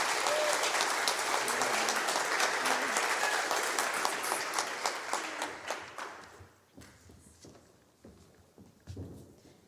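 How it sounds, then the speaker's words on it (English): A high school Year 12 presentation assembly audience gives award recipients a full round of applause, dense and steady for about six seconds, then tapering into scattered individual claps and a few late stragglers. "Can I get everyone to give all those recipients one more round of applause"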